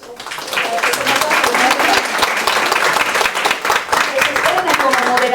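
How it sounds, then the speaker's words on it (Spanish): Dense, loud applause from a seated audience at a round-table session on didactic planning, welcoming a presenter, sustained and even across the whole stretch with a voice briefly audible beneath it. "para la cual también les pido un aplauso."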